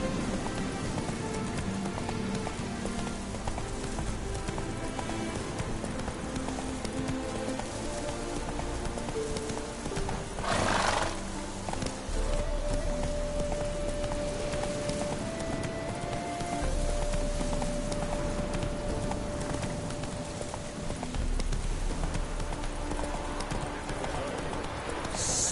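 Roach the horse gallops in The Witcher 3 with steady, close clip-clop hoofbeats that run almost the whole way, over a busy game ambience with occasional rain-like patter.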